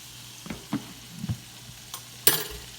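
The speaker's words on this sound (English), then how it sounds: "And I'm going to just stir that in" A spoon scrapes and taps through about two tablespoons of flour in a hot pan of shrimp drippings for Cajun gravy. Several soft, close stirring knocks and a faint sizzle are followed by one sharper scrape near the end, with no talking.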